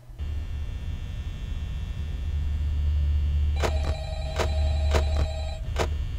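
A telephone rings in the Five Nights at Freddy's video game, several quick electronic bursts repeating over a steady low rumbling hum, fairly prominent in the second half.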